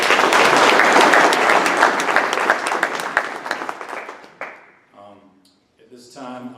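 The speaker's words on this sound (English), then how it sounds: "let's give a round of applause to everybody who wanted to" An audience at a board meeting applauds the volunteers willing to serve, a dense burst of clapping that fades out over about four seconds, followed by a voice speaking.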